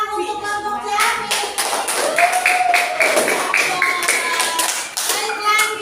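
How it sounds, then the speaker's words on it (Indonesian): Classroom applause for a student group, steady multi-hand clapping throughout at moderate loudness, with children's voices and an adult speaking over it. "Tepuk tangan untuk kelompok Jami."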